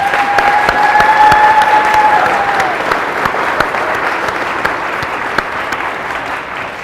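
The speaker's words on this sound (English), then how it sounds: "Could you all please give them a great round of applause?" Audience at a wedding ceremony breaking into loud, sustained applause, dense clapping close by with a brief whistle early on, gradually easing toward the end.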